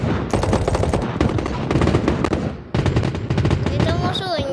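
Rapid automatic gunfire from the mobile shooter game Battle Prime on Android, in loud, dense bursts with one brief pause partway through and a short electronic whine at the end.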